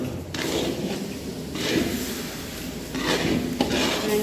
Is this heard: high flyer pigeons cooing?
no